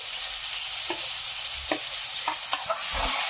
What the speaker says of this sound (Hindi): अब टमाटर और जो हरी मिर्ची का पेस्ट था वो ऐड करेंगे इसके अंदर उसको भी अच्छे से भून लेंगे